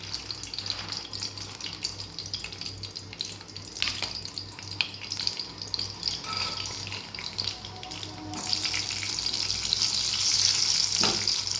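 Ghee sizzling in a pan while khichuri cooks, a steady crackling hiss throughout that grows brighter and louder toward the end, with no voices.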